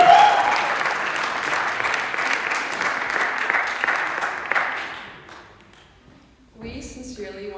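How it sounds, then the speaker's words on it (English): Audience at a college chorale variety show giving a round of applause for a percussion ensemble and other performers, dense steady clapping that fades out after about five seconds, followed by a voice speaking. "give one last round of applause for the percussion ensemble and all the other great performers"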